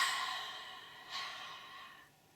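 A slow, full exhale of breath drifts out softly and airily, swelling slightly midway before fading to quiet.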